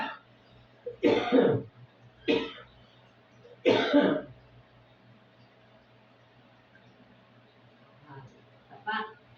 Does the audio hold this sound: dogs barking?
no